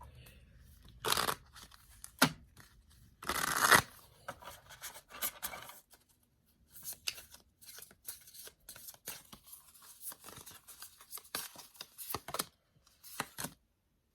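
Tarot cards shuffled by hand in irregular bursts of papery slapping and sliding, close up, with quiet gaps between bursts.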